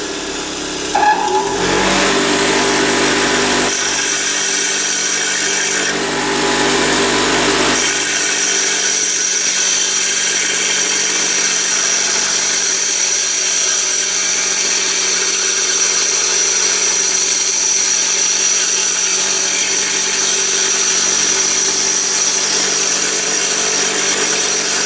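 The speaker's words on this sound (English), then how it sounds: "I'm going to grind this backwards and forwards on the wheel, allowing the spring to spin as I do so." A steel compression spring is ground on a bench grinding wheel, a loud, continuous abrasive hiss and whir that runs for about twenty-five seconds, with brief changes in the first few seconds as the spring is worked back and forth.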